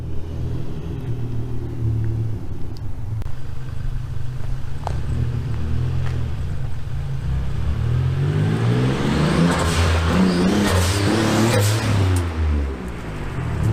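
A Nissan 300ZX fitted with a turbo blow-off valve drives by. A low engine rumble builds and revs through the gears, getting louder toward the end with a brief hiss near the close, and no talking.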